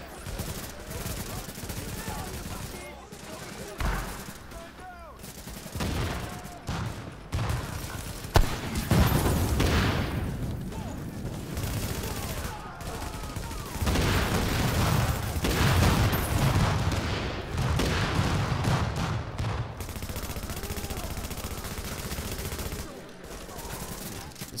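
A heavy-recoil rifle fires in the shooter game The Division, loud bursts of automatic gunfire and booms clustered in the middle, with scattered shots before and after and occasional voices.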